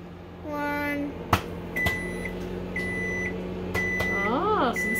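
A Samsung microwave oven finishing a batch of popcorn hums steadily, then gives three long, clear electronic beeps, with a voice heard briefly in the background.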